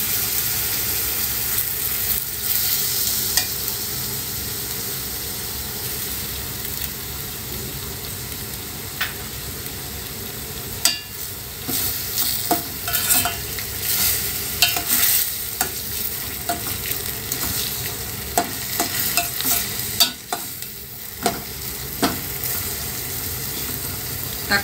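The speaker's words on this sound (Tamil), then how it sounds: "தக்காளி ஆட் பண்ணிவிட்டு கொஞ்சம் தக்காளி ஒரு 2 நிமிஷம் நல்லா வதங்கட்டும்." Grated tomato sautés in a hot pan with a steady, close sizzle, while a spoon scrapes through it now and then in short bursts of stirring. No one speaks.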